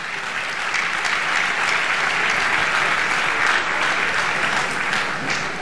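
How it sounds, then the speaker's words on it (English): An audience at a university convocation lecture applauds steadily, a dense, even wash of clapping that holds at full strength throughout. "Please clap for them very well."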